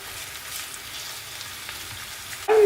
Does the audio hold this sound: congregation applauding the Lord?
no